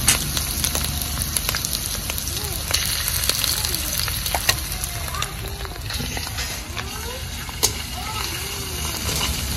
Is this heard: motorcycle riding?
no